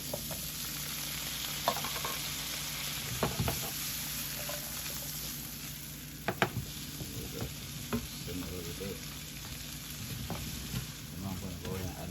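Rough-cut carrots sizzling in a frying pan, a soft steady fry with occasional stirring clatters and pan knocks, fairly quiet and without speech.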